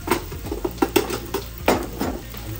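A medium tomato added to a hot pan while cooking egg bhujiya with onion gives irregular sizzling and scraping clatter of a utensil against the pan, close up and without speech.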